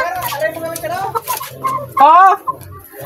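A chicken, a Shamo or Aseel fighting breed, clucks in short, uneven calls, with one louder, drawn-out squawk near the end, close by over a low background murmur.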